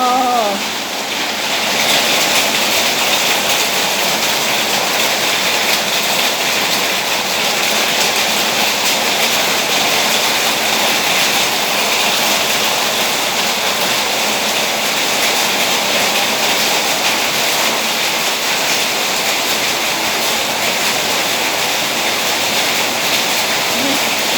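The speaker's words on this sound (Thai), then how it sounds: "ฝนตกหนักเลยตอนนี้อ่ะโอ้" Heavy rain pours down in a steady, dense roar that stays loud and even from start to finish, with no talking over it.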